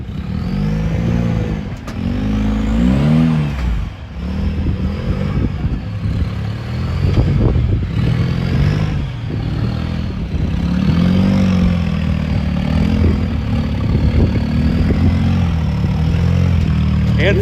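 A rock crawler off-road vehicle at a rock crawling competition revs its engine hard on a hill in Cedar City, Utah, giving a loud, continuous rumbling roar whose pitch rises and falls with the throttle.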